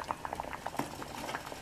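Liquid boiling in a pot on the stove, a busy patter of bubbles popping in close, quiet and continuous.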